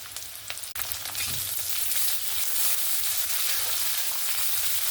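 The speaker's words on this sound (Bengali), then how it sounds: "পেঁয়াজ আর টমেটোটাকে একটু ভালোভাবে ভেজে নেব।" Onion and chopped tomato frying in a pan for a spicy sea fish curry, a steady, close sizzle with a sudden jump in loudness partway through, then continuous crackling hiss with no voices.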